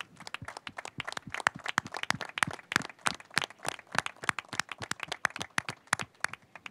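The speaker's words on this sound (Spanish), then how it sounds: "Para el que le pido un fuerte aplauso" Scattered hand claps from a small audience at a presentation of the July festival poster, many distinct sharp claps in a quick uneven rhythm, moderately close and fairly soft, with no talking.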